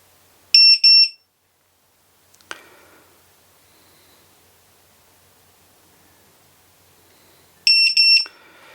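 A ViFly drone beacon sounds its loud, piercing electronic alarm in two short bursts of rapid high-pitched beeps, separated by near silence with a faint click and brief rustle between them.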